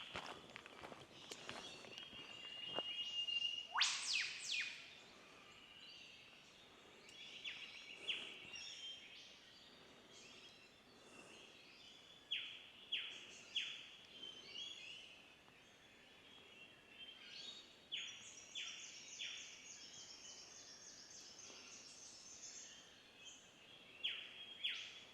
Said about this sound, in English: let you hear a little bit of the birds singing to the morning wake-up call